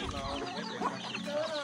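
Chickens cluck busily on a mountain farm, with several birds calling in a steady, overlapping stream that sounds close and moderately loud. A voice may speak faintly underneath.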